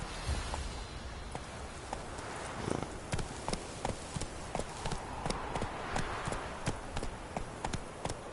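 A horse gallops in The Witcher 3, its hooves beating a fast, even clip-clop rhythm that carries on steadily over a soft background wash.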